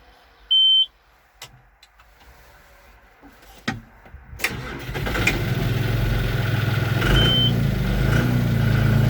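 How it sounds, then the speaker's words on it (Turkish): A John Deere 5065E tractor's Euro 3 engine cranks and catches after a few clicks and a beep, then settles into a steady, loud, rumbling idle nearby. "Şöyle bir traktörümüzü çalıştıralım. Bir sesini de duyalım."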